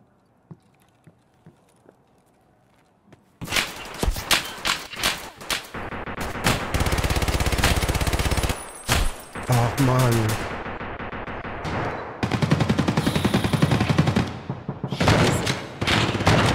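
Loud bursts of shotgun fire from the online shooter Escape From Tarkov Arena, repeated blasts and dense action noise running almost continuously after a quiet opening.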